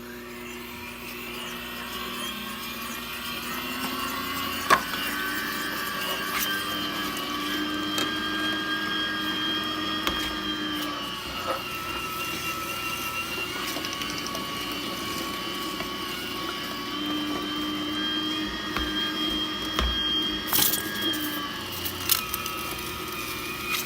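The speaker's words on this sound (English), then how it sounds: "Once you got your meat cut into strips, it's time to put in the grinder." An electric meat grinder works through strips of beef, giving a steady, continuous motor whine and hum at close range that holds for the whole stretch with only small shifts in pitch and no talk.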